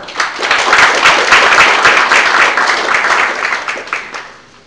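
Crowd applause at a book launch event fills the room, a dense, sustained burst of many hands clapping that swells quickly and then tapers off toward the end.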